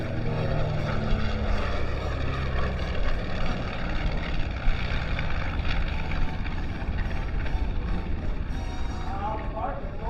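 A 3,400-horsepower Mitchell warbird propeller plane passes at about 300 mph at the Fort Wayne Air Show, a loud, continuous droning engine roar with people talking over it.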